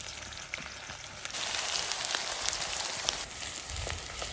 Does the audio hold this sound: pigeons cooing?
no